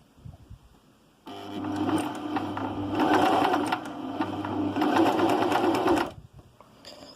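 A sewing machine runs steadily as it stitches a zigzag seam on fabric, starting abruptly after a brief quiet, then a dense mechanical whir for about five seconds before it stops.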